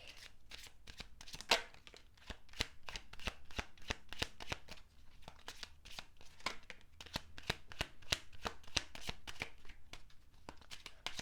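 A new Kipper card deck being shuffled, giving a quick, steady run of soft riffling flicks and slaps close by, with no talk over it.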